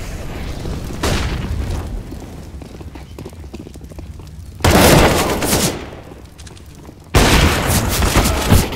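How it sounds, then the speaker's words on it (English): Three loud, sustained bursts of a flashbang grenade exploding in Counter-Strike, each a broad roaring blast lasting a second or more, separated by quieter stretches of game background noise. "Throw in Flashbang."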